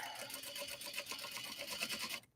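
A sewing machine stitches around the edge of a clutch wallet made from obi and kimono fabric, a fast, even mechanical whir running steadily before stopping abruptly at the end.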